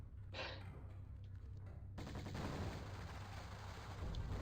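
Faint, rapid gunshots crackle in Tomb Raider I Remastered at the Great Pyramid, a quiet burst early on, then a denser, steady rattle of shots from about two seconds onward.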